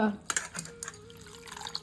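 Water splashes and trickles for a moment as henna leaves are rinsed, with small drips and a soft rinsing slosh close by.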